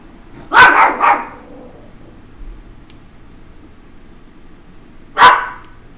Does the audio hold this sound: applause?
no